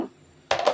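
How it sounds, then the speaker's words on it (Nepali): A metal pressure cooker lid clatters and clanks into place, a short burst of bright metallic knocks after a quiet moment. "म अब यसको कुकरको चाहिँ ढक्कन लगाइदिन्छु"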